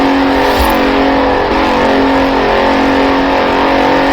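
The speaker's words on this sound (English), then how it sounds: "The 2017 Continental Supersport is responsive, fast, and beautifully designed." A 2017 Bentley Continental Supersport in Forza Horizon 4 holds a loud, steady engine drone, with a short rev near the start, heard alone without talk.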